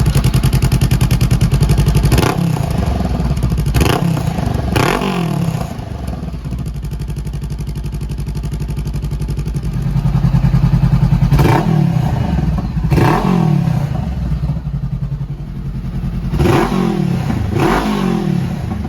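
A Honda CBR500R motorcycle fitted with an aftermarket exhaust revs repeatedly from a loud, close idle, with several sharp throttle blips rising and falling over a rough, rumbling idle between them, and no speech.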